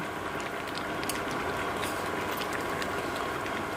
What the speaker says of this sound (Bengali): ফ্যান হাই স্পিড ফ্যান চালিয়ে মেয়ে বসে আছে এত আওয়াজ হচ্ছে